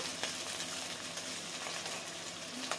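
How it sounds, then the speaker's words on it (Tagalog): Pansit noodles with carrots and onion being stirred in a hot pan, a steady soft sizzle with faint scraping of the utensil running throughout, quiet and close, without any voices. "Haluin ulit natin ng konti dahil hot cook na yung carrot."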